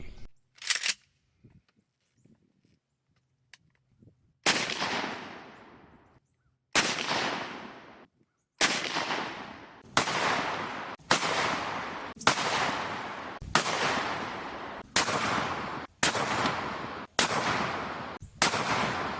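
A 12 gauge Winchester Super X 2 3/4 inch rifled slug fired into ballistics gel: a series of about a dozen sharp, loud shots at roughly even intervals, with no talk.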